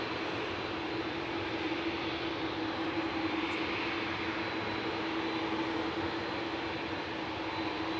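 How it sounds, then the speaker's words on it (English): EasyJet airliner touching down on arrival from Marrakesh at Manchester Airport, a steady broad roar of jet engines with a constant droning hum, moderately distant and unbroken throughout. "EasyJet from Marrakesh just touching down now."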